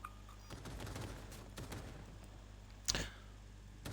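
Heavy artillery fire in the Cyberpunk 2077 video game: a few booming, gunfire-like blasts over a constant low rumble, with one sharp, loud burst near the end.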